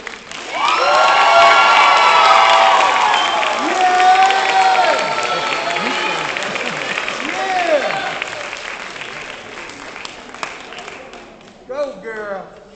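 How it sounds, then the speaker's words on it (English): A graduation crowd for the class of 2024 bursts into loud, sustained applause with cheering and shouting voices layered on top, gradually thinning toward the end. "Now everyone please give a round of applause to my best friend, the valedictorian of class of 2024, Tyler Wilson."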